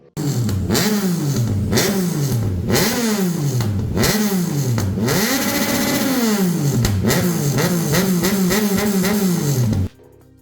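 A Yamaha Tracer 900 motorcycle exhaust with a removable silencer revs repeatedly, pitch rising and falling in rapid bursts, loud and close for about ten seconds before cutting off.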